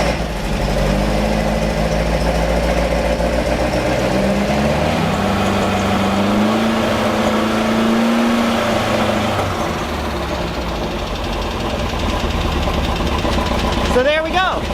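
Beck 550 Spyder replica engine idling after sitting cold for a couple of days, a loud, steady low rumble with slight wavering in pitch, while people talk over it.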